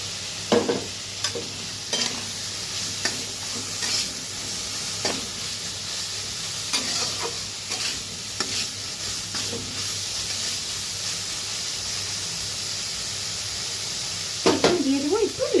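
Lotikochu stolons frying with spices in a pan for a prawn dish give a soft, steady sizzle broken by repeated scraping stirs, and a voice comes in near the end.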